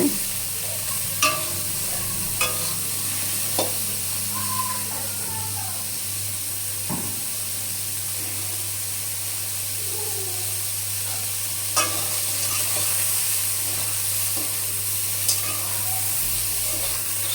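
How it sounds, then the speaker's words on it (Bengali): Soybean chunks fry with a steady sizzle in a pan while a spatula stirs them, giving sharp scraping knocks at irregular intervals over a continuous hiss. "দেখো আমার প্রায় সয়াবিনগুলো ভাজা হয়ে এসছে"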